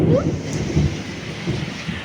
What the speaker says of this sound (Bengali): বৃষ্টি দেখো কত জোরে নামলো